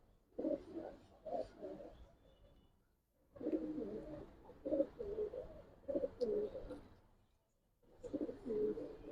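A Giribaz pigeon in a collection of coloring and racer pigeons coos in several throaty, rolling phrases, fairly close and moderately loud, with short quiet gaps between bouts.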